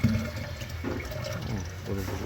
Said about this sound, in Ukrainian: просто звичайною водою виганяємо цей шмурдяк. Проганяю спеціально через фільтр